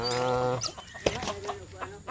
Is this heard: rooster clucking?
yes